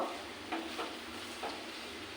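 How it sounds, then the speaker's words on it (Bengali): Fish head and taro stirred in a hot pan: a quiet, continuous sizzle broken by three or four soft scraping strokes, with no voices. "ওটা ঢেলে দেব মাছের মাথা কচু আমি মিশিয়ে নেব"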